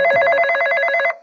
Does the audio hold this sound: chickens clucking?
no